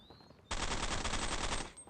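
An auto shotgun in the Counter Strike game on the original Xbox lets off a rapid burst of shots lasting just over a second, loud and close, then cuts off.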